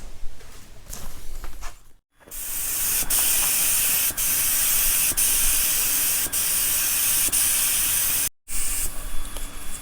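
A spray gun hisses steadily while painting parts for a Farmall Super M tractor, a loud continuous hiss broken by two brief pauses where the trigger releases.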